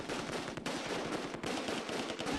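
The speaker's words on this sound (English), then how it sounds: "MG42 trying to do his thing." MG42 machine gun firing in the Close Combat II war game, a continuous fast rattle of bursts with brief dips, steady and fairly faint.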